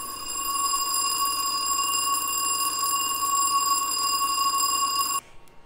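An old telephone ringing generator, a motor-driven magneto running on single-phase AC, drives a bell. It rings as one continuous, loud metallic tone for about five seconds, then stops abruptly.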